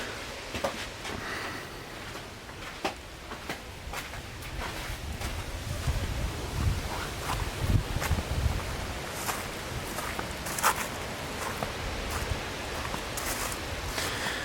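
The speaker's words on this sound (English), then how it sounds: "It sure is a windy day." Wind gusts across open homestead ground near oak trees and a well, a steady rushing rumble with low buffeting swells, occasional rustling and faint scuffing steps, the broadband roar continuous throughout with no voices.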